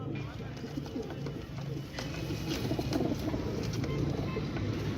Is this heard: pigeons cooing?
yes